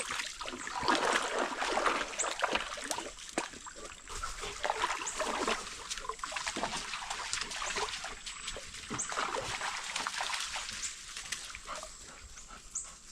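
Animals splashing around in an outdoor whirlpool: continuous close watery splashing and trickling with irregular bursts, moderately quiet, with no talk.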